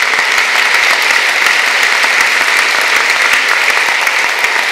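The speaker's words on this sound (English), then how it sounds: "First, a warm round of applause for these first insights of the Dalai Lama." A large audience greets the Dalai Lama with a dense, even round of applause, the loud clapping sustained throughout with no voices over it.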